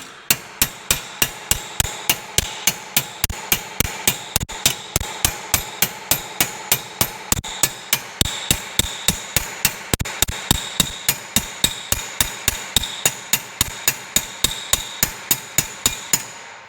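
Steady, evenly spaced hammer blows strike a spot on sheet metal, roughly three per second, each a sharp loud metallic crack, near and unaccompanied, continuing throughout.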